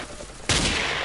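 Gunfire in the video game Ace of Spades bursts in abruptly halfway through and keeps going as a loud, dense, continuous roar of shooting, after a quieter stretch of game ambience.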